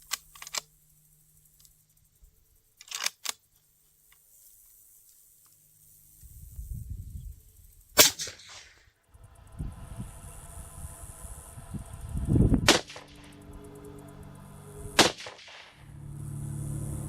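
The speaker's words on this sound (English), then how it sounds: "That was my first shot." A single sharp rifle crack from a .243 firing a Remington Core-Lokt round during a sight-in at 25 yards, set among scattered handling clicks, shuffling and low rumbling noise.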